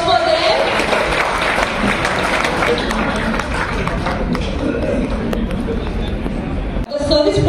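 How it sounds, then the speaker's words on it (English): Loud, sustained applause from a crowd at a Rotary Club installation ceremony, steady clapping filling the room with some background chatter mixed in. "Give a round of applause for them."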